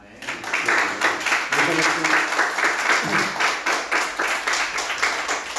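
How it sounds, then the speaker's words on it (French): A church congregation claps steadily in warm, continuous applause filling a large room, with voices faintly mixed underneath. "Nous pouvons applaudir pour les accueillir."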